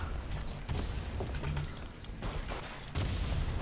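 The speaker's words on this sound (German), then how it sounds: "da hat es irgendwo gerade geschossen" Gunfire in the World War I trench shooter Verdun at night: a dense crackle of distant rifle shots and rattling bursts over a rumbling battlefield background, no talk.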